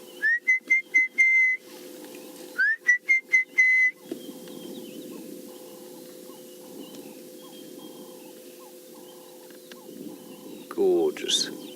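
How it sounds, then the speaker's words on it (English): An orange-breasted bushshrike gives loud, clear whistled calls in two quick bursts, followed by softer repeated notes over a low background hum. "In the background, you can hear the orange-breasted bushshrike."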